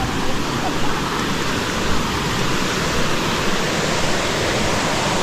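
Water pours steadily from a natural spring in a scenic outdoor spot, a continuous loud rushing hiss with no pauses, close by and filling the whole clip.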